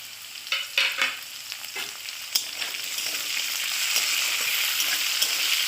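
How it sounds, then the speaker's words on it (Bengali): Capsicum, beans and green chillies stir-fried in a pan, a few sharp spatula knocks first, then a steady, building sizzle with occasional scrapes, no talking. "সবজিগুলো দিয়ে আমি 1 মিনিটের মতো নাড়াচাড়া করে নিয়েছি"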